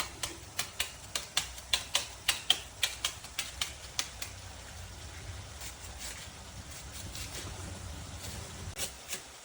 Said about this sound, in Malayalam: ഇതുകൂടെ ഒന്നേ കൊത്തി അരിഞ്ഞിട്ട് കൊടുക്കാം